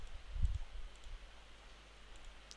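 Mouse clicks sound on a Windows 11 computer, a few soft, brief taps close by over a quiet hiss.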